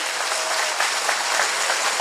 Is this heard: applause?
yes